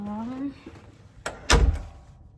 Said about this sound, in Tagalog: I-lock muna natin yung pinto.